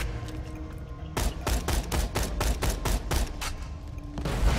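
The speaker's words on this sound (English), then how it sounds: "It's like a shitty grenade launcher." A rapid burst of grenade launcher explosions in Borderlands 2, a dozen or so sharp bangs in quick succession, loud and punchy, then a final boom.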